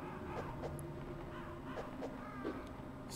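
Several crows in an underground facility in the video game Metal Gear Solid caw repeatedly in short harsh bursts, moderately loud over a steady low droning background.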